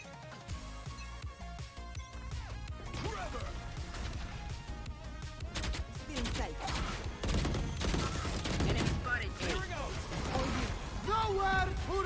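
Video game gunfire, rapid crackling shots and impacts on walls and plants, runs continuously at moderate level under frequent talking.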